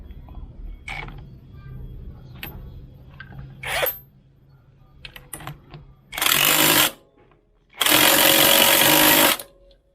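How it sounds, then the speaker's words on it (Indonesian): Impact wrench tightening clutch parts on a Suzuki Shogun FL 125 motorcycle in a workshop: two loud, sustained rattling bursts follow scattered clinks and taps of tools. "Terus kencangkan pakai impact."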